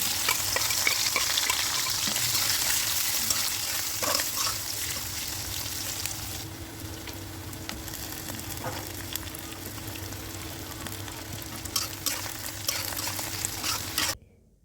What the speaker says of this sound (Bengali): একটা তেজপাতা দিয়ে কিছু পেঁয়াজ ছেড়ে দেব